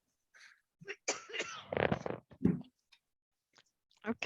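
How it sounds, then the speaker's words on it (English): A single person coughs and clears their throat in several close, harsh bursts separated by brief silences. "I'm coughing away here"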